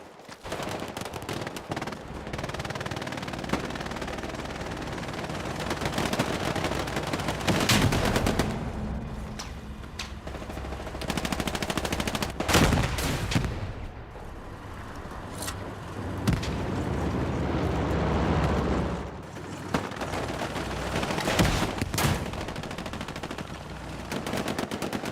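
Heavy gunfire and rocket explosions from the World War II shooter Hell Let Loose, played on Xbox Series X, roar without pause: dense rifle and machine-gun bursts with repeated booming blasts, loud and chaotic, with no voices.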